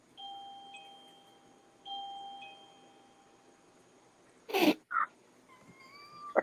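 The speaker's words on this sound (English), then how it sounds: "My doorbell just went off." A two-tone doorbell chime rings twice in a quiet room, followed by a couple of short bumps and a high wavering whine.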